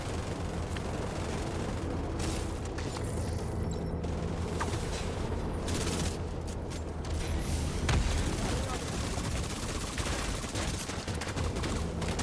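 Assault rifle gunfire in a video game: rapid, rattling bursts of shots mixed with mechanical clatter and creaks, fairly faint and continuous throughout the mix.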